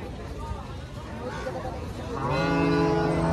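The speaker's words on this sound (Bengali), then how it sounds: "প্রচুর গাবি গরু উঠছে" Cattle low at a busy cattle market, a drawn-out moo rising near the end over a steady murmur of crowd noise and nearby chatter.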